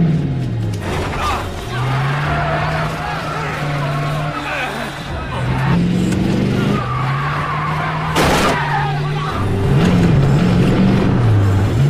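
A remote-controlled car in a film scene skids into a warehouse. Its tires whine in long wavering squeals over engine rumble and a loud steady background mix, with a sharp impact near the middle and narration over the top.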